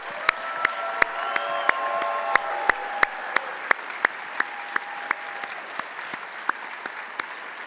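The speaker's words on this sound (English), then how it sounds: "join me in one more round of applause for our wonderful and newest Roaring 10 honorees" Audience applause for Clemson University Roaring 10 honorees at an award ceremony: a steady wash of clapping from a crowd, with sharp, regularly spaced louder claps standing out near the microphone throughout.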